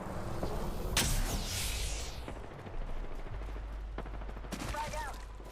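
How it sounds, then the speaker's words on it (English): Enemy gunfire in the Apex Legends battle royale game, a sharp burst up front followed by scattered shots and crackling bursts of fire continuing near and loud over a steady in-game background rumble. "The enemies are shooting at me."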